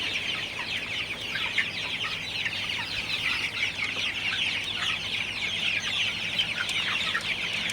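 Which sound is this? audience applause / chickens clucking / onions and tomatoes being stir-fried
chickens clucking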